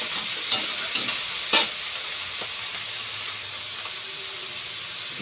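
Malunggay pods with tomato, squash and sweet potato stirred in a pan, soft scraping strokes and a few clinks over a steady low sizzle, with no voices.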